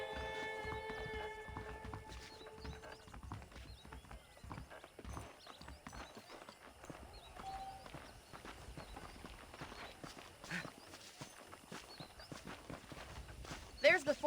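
Horse hooves clip-clopping at a steady walk in Red Dead Redemption, a soft rhythmic patter continuing throughout under people talking, with a short whinny toward the end.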